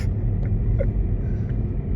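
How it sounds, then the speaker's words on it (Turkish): A car approaching on the road, a continuous low engine rumble, fairly loud and steady throughout, with faint higher mechanical tones on top. "araba geliyor."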